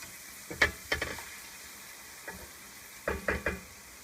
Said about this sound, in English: take this opportunity to scrape all the bits from the bottom of your pan to bring that flavor up